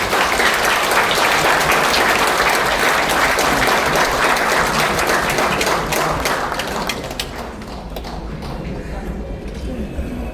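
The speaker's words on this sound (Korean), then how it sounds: "여러분 큰 박수로 맞아주십시오." A large audience at a book launch for a memoir, held in a national assembly museum hall, breaks into sustained loud applause that fills the room, thinning slightly toward the end as the clapping settles.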